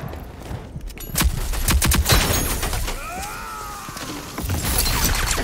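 Rapid bursts of video game gunfire crackle in a loud, sustained exchange, shots landing in clusters with a brief whooshing sweep midway and heavier volleys toward the end.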